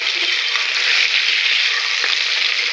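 Onion, carrot, tomato and potato frying in oil, a loud, close, continuous hiss of sizzling with a faint scrape of stirring partway through.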